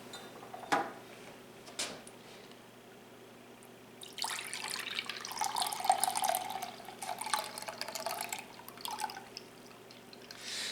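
Liquid from a 20-ounce can of sliced pineapple drains for several seconds, a steady trickling pour starting after a couple of brief clicks, moderately loud and close, with no talking.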